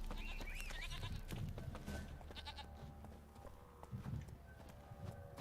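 Hooves of Geralt's horse Roach in The Witcher game, a faint, rapid clip-clop running under a busy background of game sounds, quiet throughout.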